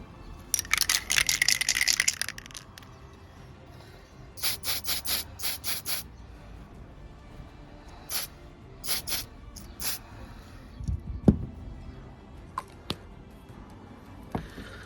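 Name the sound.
aerosol matte spray being sprayed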